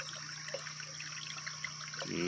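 A small creek babbles and trickles steadily outdoors, a soft continuous flow of water running alone at low level with no voices.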